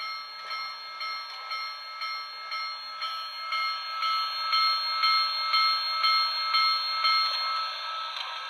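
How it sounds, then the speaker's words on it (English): A small locomotive bell from an HO scale model's Soundtraxx sound decoder rings steadily in a quick, even rhythm of clear metallic dings, moderately loud and continuous, with no voices. "And the bell."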